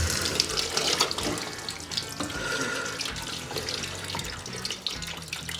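Coolant squirts and splashes out as the water pump comes off a Holden HZ Kingswood 202 engine, a continuous close, wet gushing and dribbling with no voices.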